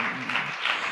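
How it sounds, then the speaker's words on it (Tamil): Applause from a church congregation during a Tamil sermon, a steady dense patter of clapping hands lasting about a second, moderately loud with no voices over it. "கைத்தட்ட ரொம்ப யோசிக்கிறீங்க"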